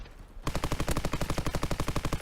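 A rapid, loud burst of automatic fire from a PPSh submachine gun in a competitive 4v4 video game gunfight starts abruptly after a quiet moment and rattles on in an even rhythm of evenly spaced shots.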